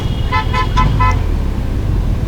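Car horns toot in a quick run of four short beeps amid steady road traffic rumble, heard close on a motorcycle ride into a Pakistani town.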